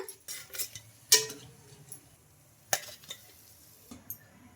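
Poha pieces frying in oil in a kadai, with a soft low sizzle broken by a few sharp clinks and scrapes of a utensil stirring against the pan.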